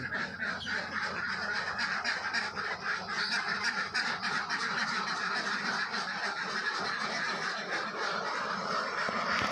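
Ducks that have not eaten for two days in the heat give a dense, continuous chorus of nasal quacks and honks nearby. No one speaks over the calls.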